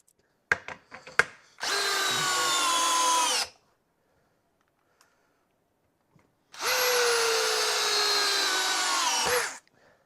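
A DeWalt DCD801/DCD806 cordless drill driver spins a bit in two loud sustained bursts of about two seconds and three seconds, separated by silence, with a few sharp clicks and taps just before the first run.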